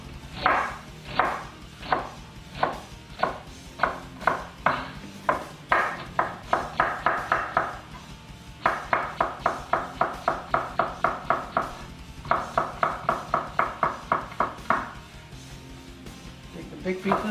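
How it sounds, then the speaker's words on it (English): A knife chops cabbage on a cutting board for vegetable Manchurian, producing steady rapid knocks in bursts with brief pauses between runs. "we're gonna mince the cabbage up really tiny"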